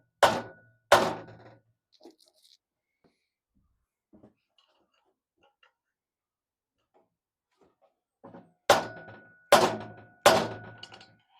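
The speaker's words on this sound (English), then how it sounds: "I think we've got enough of a lip there to knock it out." A steering head bearing shell is knocked out of a K100 motorcycle with hammer blows. Sharp, loud metallic thunks come in two pairs, separated by a long quiet gap with faint taps, and the final three strikes fall in quick succession.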